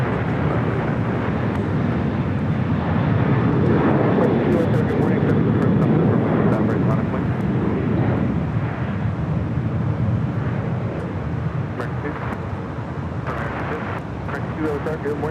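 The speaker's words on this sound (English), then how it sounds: "Here we have an A321neo with Delta about to take off to Orlando" Delta Airbus A321neo airliner taking off at LAX: a loud, continuous broadband jet roar that swells and slowly fades, with a voice talking over it.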